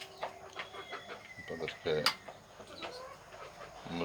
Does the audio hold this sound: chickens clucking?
yes